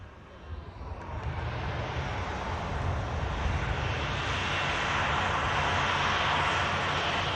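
A passenger aircraft's engines roar at Manchester Airport after a pushback from a remote stand, a loud broadband rumble that builds and holds steady, close and continuous throughout.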